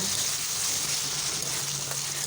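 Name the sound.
stirring semolina and ash gourd halwa in a frying pan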